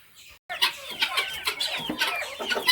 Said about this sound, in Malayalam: ഇലകൾ കോഴികൾക്ക് കൊടുത്തു കഴിഞ്ഞാൽ അത് നല്ല രീതി ഭയങ്കര ഇഷ്ടമാണ്